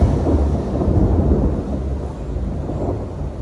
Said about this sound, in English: Not the thunder.